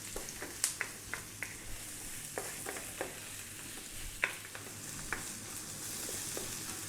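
Carrots fry in a pan over medium heat with a soft, steady sizzle, broken by scattered light clicks and scrapes from stirring, all faint and with no voices.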